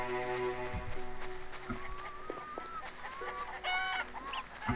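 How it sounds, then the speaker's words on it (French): Chickens cluck and squawk in The Witcher video game, a busy layered chorus of hens with repeated calls and a brief crow-like cry, steady and fairly close throughout with daytime ambience. "il y a les poules qui jacassent"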